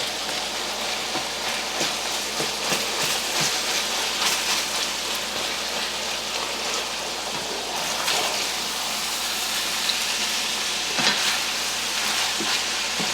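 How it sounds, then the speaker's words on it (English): Onion and garlic stirred into meat frying in a pan, a loud, dense, continuous sizzle with scattered scraping and stirring strokes throughout, close. "I'm going to start working in the onion and garlic into the meat."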